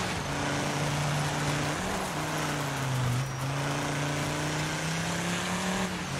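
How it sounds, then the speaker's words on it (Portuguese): A rally car in the Dirt 5 racing game drifting through tight corners, its engine droning loud and steady with slight pitch shifts as it slides, with no voices. "Tô na base do drift"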